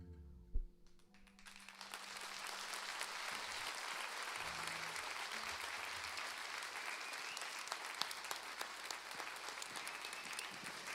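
An audience claps at a live music and poetry event, a dense sustained round of applause that starts after a brief pause and continues steadily to the end, fairly distant.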